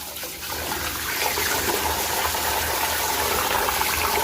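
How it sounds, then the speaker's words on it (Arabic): Rice is washed in water by hand in a bowl, a close, continuous sloshing and swishing with running water, steady for several seconds before cooking saleeg, with no talk. "أول نبدأ نغسل الرز 4-5 مرات"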